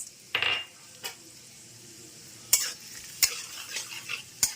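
Cashews and raisins fry in ghee and refined oil with garam masala in a wok, a quiet steady sizzle punctuated by a few sharp clinks of a spatula against the pan.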